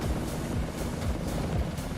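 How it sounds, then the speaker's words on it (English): A helicopter in a flight simulator game gives a steady low rotor drone with a faint pulsing beat, continuous and moderately loud throughout. "I'm also hearing a different helicopter."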